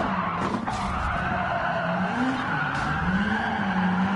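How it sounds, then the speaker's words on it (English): Tires squeal and skid as an AI race car loses control and crashes in Gran Turismo 7, a sustained wavering screech over engine roar, loud and steady for a few seconds. "Right, the AI just crashed."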